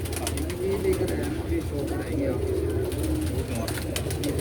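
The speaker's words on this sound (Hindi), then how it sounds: "माशाल्लाह जोड़ों वाले ज़बरदस्त कबूतर हैं" Soft pigeon cooing repeats through a steady background murmur of voices and ambient noise, low and continuous.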